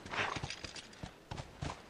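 A horse gallops in The Last of Us, giving quick rhythmic hoofbeats that are faint and steady, with no talking.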